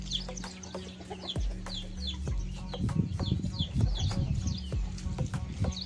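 A rooster and chickens cluck close by: quick, repeated clucks and short calls from several birds overlap continuously over a low background hum.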